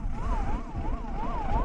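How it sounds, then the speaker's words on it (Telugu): An ambulance siren wails in a rising and falling pattern over the rumble of road traffic on a highway in Andhra Pradesh, loud and fairly close, without a break. "ఈ అంబులెన్స్కి ఎవరు లెఫ్ట్ ఇచ్చి సైడ్ ఇస్తారో చూద్దాము."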